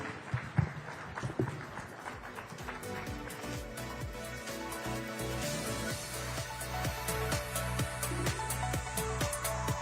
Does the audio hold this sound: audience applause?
yes